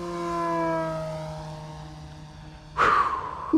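A small model propeller airplane drones with a steady tone that slowly fades, then a sharp rising whine as it roars past close by in a high-speed pass.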